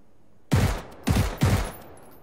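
Three sharp bursts of gunfire from the video game PUBG, loud and close, spaced about half a second apart, with no talk over them.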